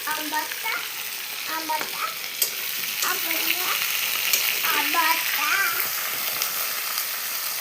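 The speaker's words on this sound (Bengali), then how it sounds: "ফুলকপিটা ভেজে নেব, মাছ ভাজা হয়ে গেছে।" Cauliflower frying in hot oil in a pan, a steady close sizzle with stirring scrapes throughout and faint voices at times.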